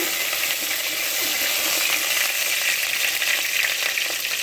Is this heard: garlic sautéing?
yes